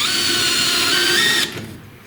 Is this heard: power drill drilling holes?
yes